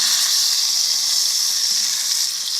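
Crappie fillets pan frying in oil in a skillet, a steady loud bright sizzle and hiss running continuously up close with no talk.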